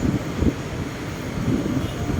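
A steady low rumble of a passing LRT light rail train in Ermita, Manila, heard from a distance with a continuous mechanical drone and no voices.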